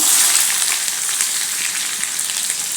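Onion hitting hot oil with mustard seeds and cumin gives a loud, dense, close sizzle that hisses evenly from start to finish with no voices.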